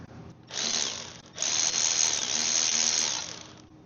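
A ratcheting tool whirs as it backs out 10 mm bolts on a lawn mower engine, with two bursts of rapid clicking, a brief pause between them, close and fairly loud, and no talking.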